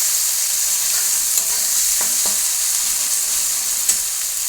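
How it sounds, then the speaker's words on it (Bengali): Spice paste sizzles steadily in hot oil for soybean tikka, a dense continuous frying hiss with a few soft stirring scrapes, close and loud, no voices. "মশলাটা কষানো হয়ে গেছে, তেল ছেড়ে দিয়েছে।"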